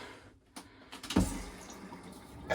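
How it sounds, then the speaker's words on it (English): Water runs from the shower head and faucet in an RV, a low, irregular splash and trickle with a few brief knocks and a louder gush midway, heard close and without talk. "turn the water on each until I get clear water coming from both"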